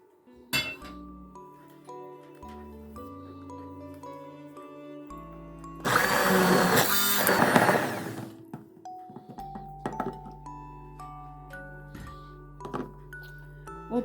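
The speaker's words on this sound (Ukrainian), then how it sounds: "І тепер все переб'ю блендером." Blender whirring for about two seconds as it purees stewed vegetables into spaghetti sauce, loud and gritty, surrounded by light clinks of glass and utensils over quiet background music.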